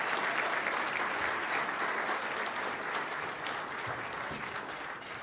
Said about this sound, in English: welcoming round of applause